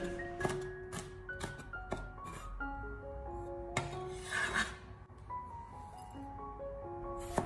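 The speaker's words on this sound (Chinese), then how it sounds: "先把辣椒把切下来去掉，然后再将它直接的切成小圈" A knife cuts small bird's-eye chili peppers into thin rings on a board, giving a series of sharp, close taps and scrapes spread across the clip over steady background music.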